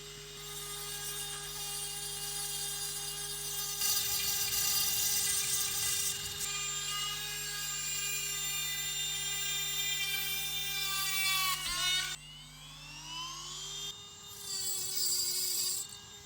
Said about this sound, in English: Cutting was fast, grinding was also good, and it drills well for a tool that's not specifically designed for it